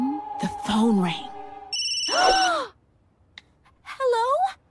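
A voice imitates a ringing phone with sung, warbling tones in short bursts separated by pauses, loud and close.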